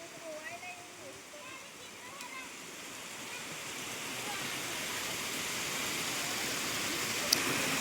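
River water pours down over a weir in a steady broadband rush that swells louder toward the end, with voices speaking briefly near the start.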